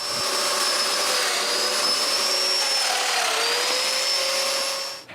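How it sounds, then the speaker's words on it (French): A power drill bores mortises in a wood furniture part for a cabinet of drawers, a loud steady whine holding high and constant for about five seconds, close up, with no talking. "Et finalement, je peux percer les mortaises."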